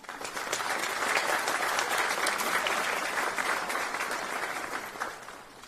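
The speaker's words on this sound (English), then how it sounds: "We ask now that you will give yourselves a round of applause" A crowd applauds at a police academy graduation ceremony in Greensboro, honoring 23 recruits; the clapping is full and sustained for several seconds, then begins to taper off.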